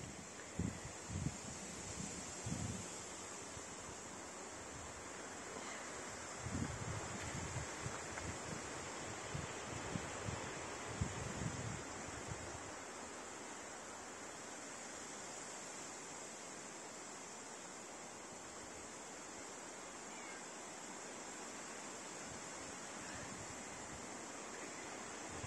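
Steady wind rushes through autumn forest foliage for a long stretch, with low gusty buffeting early on that settles into an even, soft roar.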